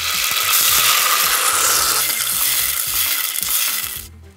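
Crushed tomatoes pour into hot oil over shallots and garlic for a pinsa sauce, setting off a loud, continuous sizzle with stirring scrapes that hold steady for about four seconds, then cut off.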